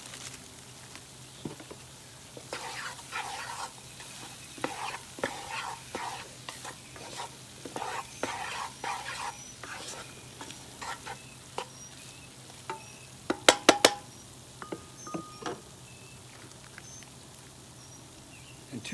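Hot links from a crawfish boil added to a pot, with sizzling and repeated stirring and scraping that come in irregular bursts, plus a few sharp clanks near the end.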